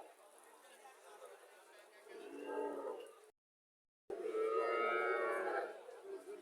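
A Haryana-breed cow lows at a busy cattle market in Comilla, with a couple of drawn-out calls rising over steady crowd chatter and nearby talk, broken by a brief gap.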